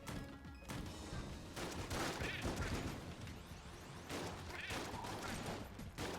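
Rapid bursts of gunfire from the Enter the Gungeon video game, dense and loud, with repeated volleys and crashing impacts filling the whole stretch, without talk.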